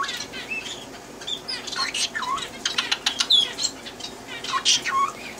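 A pet parrot calls indoors with a quick run of bright chirps, whistles and short squawks, some close together, others spaced out, with no steady background beneath them.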